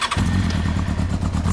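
A 2005 Honda CB400 Super Four Hyper VTEC Spec III (NC39) with a one-off Yoshimura exhaust catches and settles into a steady, throbbing idle, heard up close and loud with no talking.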